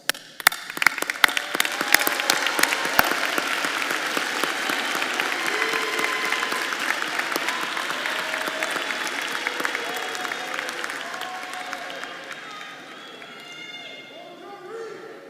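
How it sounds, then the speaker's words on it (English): Sustained crowd applause for graduates of the College of Arts and Sciences at a spring diploma ceremony, a dense, even wash of clapping from a large audience that fades toward the end, with a few voices faintly underneath. "These scholars have studied with distinction, and they merit your applause"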